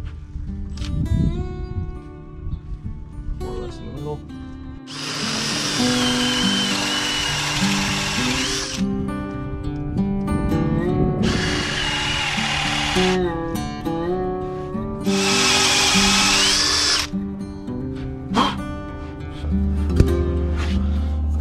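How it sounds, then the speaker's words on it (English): Loud whining drill bursts boring a hole with an inch-and-an-eighth Forstner bit, three sustained runs separated by pauses with knocks and handling sounds, over a background hum. "drill a hole. Okay, inch and an eighth Forstner bit."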